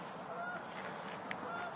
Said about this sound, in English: Oh, the geese are coming in.